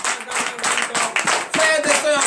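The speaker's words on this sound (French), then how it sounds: "Donnez l'acclamation à l'Éternel." Congregation clapping in a regular rhythmic beat during a morning prayer service, with voices chanting or cheering along, moderately loud and close.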